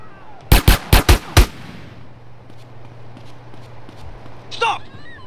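Five sharp, loud gunshots from GTA San Andreas ring out in a quick burst near the start, then give way to a low steady hum with a faint whoosh near the end.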